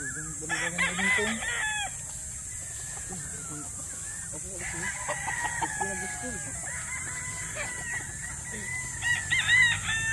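Roosters crow repeatedly at a gamefowl farm, several drawn-out calls overlapping with clucking hens, fairly close, with people talking in the background.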